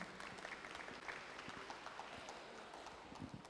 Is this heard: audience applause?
yes